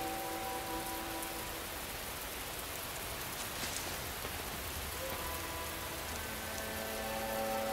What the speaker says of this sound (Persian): باران به فدان می‌بارد